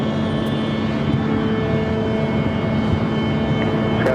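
Airliner at Phoenix Sky Harbor airport cleared for takeoff, giving a loud, steady engine roar with a constant tonal whine throughout.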